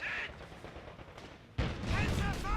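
MG42 machine guns firing in a Company of Heroes 2 battle, bursts of gunfire and heavier booms mixed with game effects, growing louder and denser partway through, with a voice talking over the action.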